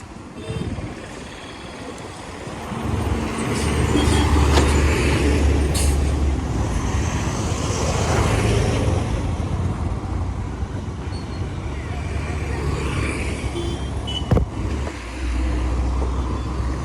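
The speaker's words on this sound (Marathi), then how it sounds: "बाप ट्रॅफिक" Heavy road traffic around a motorbike on a busy city road in the evening: a dense, continuous roar of engines and wind, loud and close, with a sharp clank partway through and a voice speaking briefly.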